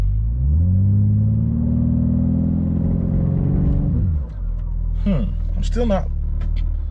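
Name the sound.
2021 BMW G80 M3 Competition engine revving in launch control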